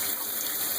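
A bathtub sprayer runs water into the drain with a steady, loud rushing hiss that stays constant for under a second.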